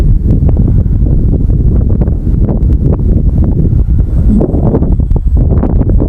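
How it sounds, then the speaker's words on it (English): Strong wind buffets the microphone outdoors at a model plane flight, a loud, constant low roar filling the clip with no voices. "And the wind does not help."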